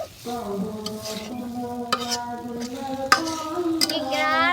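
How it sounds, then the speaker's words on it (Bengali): Spices being stir-fried in a pan for a tomato and egg dish, a steady close sizzle with scraping stirring strokes and a few sharp utensil knocks against the pan. "মশলা কটা কষাতে"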